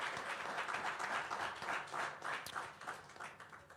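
A church gathering applauds a Christian organisation for its work. The clapping is faint and distant, with steady, rippling rhythm from a small crowd for a few seconds.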